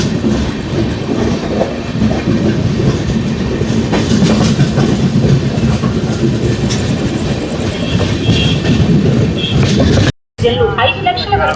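A Seven Hills Express train rumbles along at speed, heard loud and steady from inside a crowded general coach, with rhythmic clatter and a brief cut near the end before the noise resumes.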